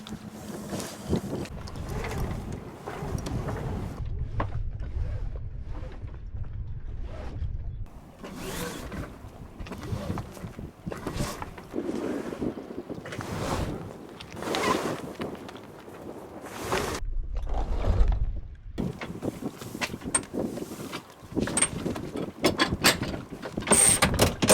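Sailboat crew hoisting the mainsail and casting off the mooring rope, with irregular creaks, rope rattles and mechanical clunks over wind and water noise, some bursts loud and close, others quieter, with occasional gaps.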